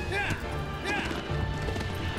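Agro the horse galloping in Shadow of the Colossus, rhythmic hoofbeat clip-clop running steadily while an excited player talks over it.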